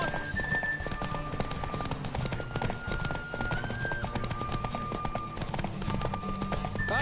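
Steady rapid hoofbeats pound beneath a sustained whistling tone, dense and continuous like a horse at full gallop.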